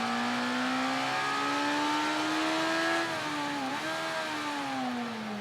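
Motorcycle engine in the Ride 3 racing game, set in an early-90s career, revving steadily with a rising whine, then dropping through gear changes under engine braking before a corner, loud and continuous with no talk.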